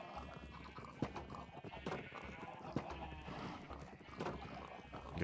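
Sheep in Minecraft bleat in short, wavering calls over a low background hum, with sharp clip-clop-like taps scattered through at moderate, fairly faint level.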